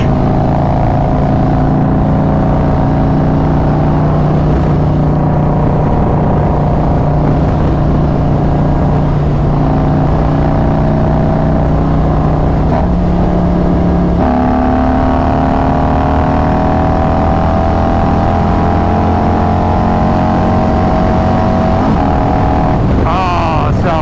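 A Harley-Davidson Road Glide motorcycle engine revs high and steadily near the microphone for about twenty-four seconds, with pitch rising toward the end, under light wind noise.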